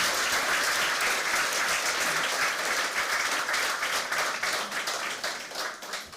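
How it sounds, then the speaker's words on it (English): A large audience at a literary talk applauds steadily, dense clapping filling the space and tapering slightly toward the end. "Please, can we have another huge round of applause?"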